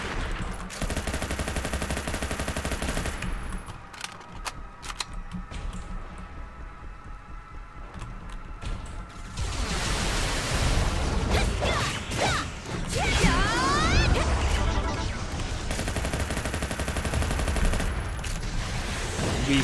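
Boss bullets and missiles firing in the video game League of Maidens, a dense, continuous barrage of rapid gunfire bursts and crashes that grows louder and busier partway through, with no voices.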